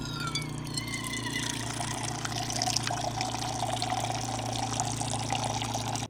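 Water is pumped from a 5-gallon Rotopax jug in a steady, even flow, a continuous trickling gush over a low motor hum, close and moderately quiet, with no talking.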